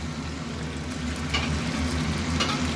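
Ginger paste frying in hot oil in a pan, a steady close sizzle under low kitchen hum, with two brief brighter crackles as more paste goes in.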